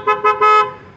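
Aftermarket horn fitted to a Renault Triber sounds three loud, close toots, two short blasts and then a longer one, each a bright buzzing tone that cuts off sharply with no voices.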